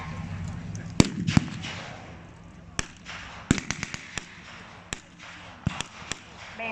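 Reenactment troops fire their guns outdoors, sharp reports ringing out at irregular intervals, some near and some farther off, over a rumbling background.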